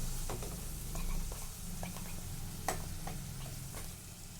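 Spices and curry leaves fry in a pan under a steady low sizzle, with irregular light clicks and taps from stirring and no talking.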